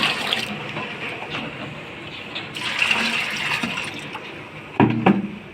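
Water pouring into a container one litre at a time for an aloe vera fertilizer mix, a steady splashing fill heard up close and alone, ending in a louder gush near the end.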